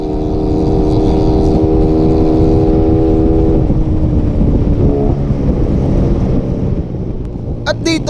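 Two motorcycles, a Raider FI and a Rusi Flame X, race side by side with a loud, steady engine drone and strong wind buffeting, the pitch dropping midway as one downshifts.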